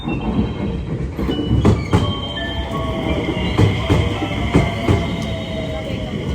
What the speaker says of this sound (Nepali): यो चाहिँ हाम्रो ट्रेन होला